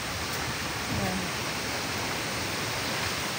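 A creek swollen after Typhoon Crising rushes past as a loud, steady roar of broadband water noise, close and continuous, with a voice briefly faint under it.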